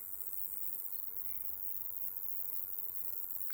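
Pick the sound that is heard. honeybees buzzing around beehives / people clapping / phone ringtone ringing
honeybees buzzing around beehives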